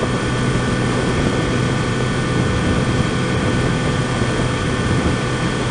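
A 2018 Kawasaki Z900RS motorcycle cruising on the freeway at 65, a steady, loud engine drone mixed with constant wind roar, no talking.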